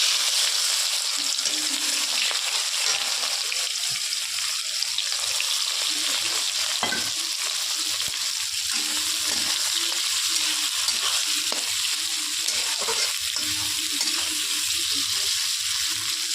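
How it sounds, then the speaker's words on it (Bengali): Sliced onions sizzle steadily in hot oil with whole spices in a wok, a constant bright frying hiss with occasional stirring clatter and no talk. "এবার আমি করকলায় তেল গরম হওয়ার পরে গোটা বড় মশলা ফোড়ন দিলাম ফোড়নটা একটু নেড়ে চেড়ে নেব এবার দিয়ে দিচ্ছি পেঁয়াজ"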